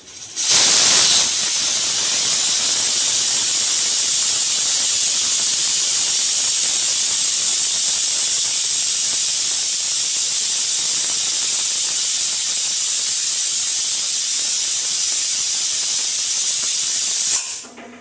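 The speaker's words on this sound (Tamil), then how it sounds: "இப்போ எனக்கு விசில் போயிடுச்சு" A pressure cooker cooking sambar rice vents steam through its whistle in one long, loud, continuous hiss that starts and stops abruptly and lasts about seventeen seconds with no talk.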